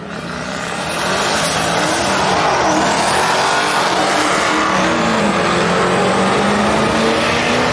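Mopar and Mustang drag racing cars roar hard at the strip, a loud continuous engine howl that builds within the first second and holds with rising, sweeping revs to the end.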